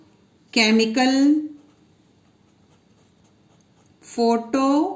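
A marker writes on a board with two short squeaky strokes, each about a second long, close and clear against a quiet room.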